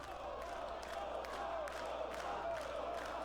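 A wrestling crowd at a Westside Xtreme Wrestling event in Germany cheers and roars in a steady, distant wash, with a commentator's voice faintly over it.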